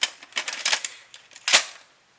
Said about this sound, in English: I'll insert a tape here.